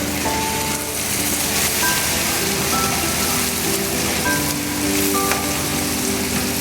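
Ginger garlic paste hitting hot oil in a pan for karela pyaz, giving a loud, steady, close sizzle and crackle throughout with no talk.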